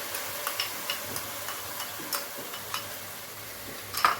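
Tomato paste fries in oil for chole, a soft steady sizzle under a regular ticking of a spoon tapping and stirring against the pan, with a louder scrape of stirring near the end.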